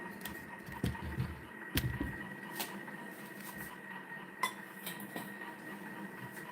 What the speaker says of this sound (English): So I grabbed myself another pan.